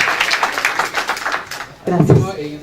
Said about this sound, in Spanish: Démosle un voto de aplauso para el doctor Segismundo